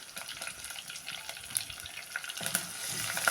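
Halved green chilies and crushed ginger sizzle in hot oil in a frying pan, a soft crackling hiss with scattered pops that builds slightly toward the end, no voices.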